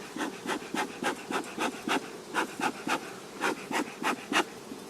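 Honey bees, Carniolan or Buckfast, buzzing around an opened hive while being smoked, with a steady drone under repeated puffs of the smoker bursting out at a regular rhythm, close and fairly loud.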